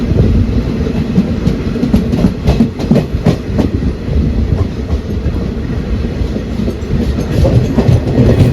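Khandesh Express from Dadar to Bhusaval runs on main-line rails through Gujarat, a loud continuous rumble with rhythmic clickety-clack of wheels over rail joints, heard from on board with no voices.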